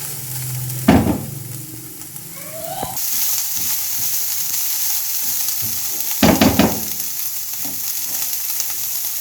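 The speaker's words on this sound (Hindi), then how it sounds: "हल्का सा प्याज को फ्राई करेंगे।" Onions fry lightly in a pan for a potato kachori filling, giving a steady soft sizzle throughout, broken by a few sharp scraping stirs near the start and again partway through, with no talk.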